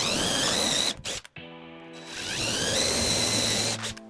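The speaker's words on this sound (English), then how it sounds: "we're gonna drill holes in it so that we can get our jigsaw blade in there" A power drill bores holes in a wood workpiece resting on scrap wood. Its whining motor spins up twice, with a brief pause between the runs, and sounds close and fairly loud, with no talking.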